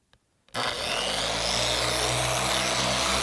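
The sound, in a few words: Griot's Garage polisher running at speed 3 on glass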